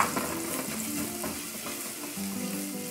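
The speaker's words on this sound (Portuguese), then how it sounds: "Dá uma refogadinha nele" Garlic sautéing in a pan at a steady sizzle, with scattered stirring clicks above a continuous frying hiss, close and moderately loud with no talking.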